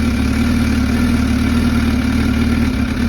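A 2006 Suzuki Katana 750 motorcycle with carburetors idles loudly and close, its engine holding a steady, even rumble throughout with no voices.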